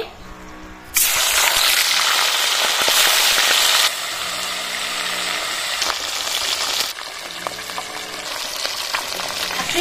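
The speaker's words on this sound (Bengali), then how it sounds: "মাছগুলো এবার কড়াইতে ছেড়ে দিচ্ছি।" Bata fish hit hot oil in a wok for a village-style mustard and poppy seed curry, bursting into a loud, dense sizzle that holds steady, easing slightly twice as the frying settles.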